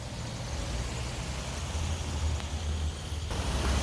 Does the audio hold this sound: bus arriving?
yes